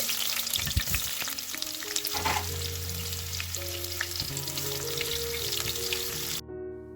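Chopped onion frying in a pan, with a loud, crackling sizzle and intermittent stirring scrapes and clanks over a steady hum, ending in an abrupt cutoff.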